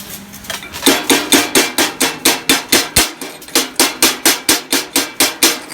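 A chipping hammer knocks slag off a fresh weld in loud, close, evenly spaced metallic strikes, around a dozen and a half in quick steady rhythm with no talk.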